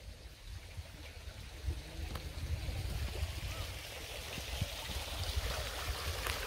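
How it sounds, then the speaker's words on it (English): Water rushes and burbles steadily in a cold forest stream, a soft continuous wash with faint splashes, growing slightly fuller midway. "And the sound of this water"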